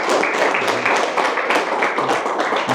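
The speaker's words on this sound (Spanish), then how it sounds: "Recibimos a nuestros invitados con un aplauso" An audience welcoming guests with a short burst of applause, many hands clapping together at a steady level, close and fairly loud throughout.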